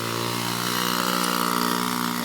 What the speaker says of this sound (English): he is jumping a ramp on his dirt bike